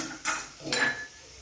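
A lid set over a pot of cooking ripe mango curry, two short metallic clinks of metal on metal, close and fairly quiet, followed by a brief ring.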